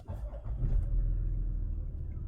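A Range Rover Sport HSE Dynamic that has sat unused for several days starts up with a short cranking burst and then settles into a deep, steady idle rumble, close and continuous, with no talking.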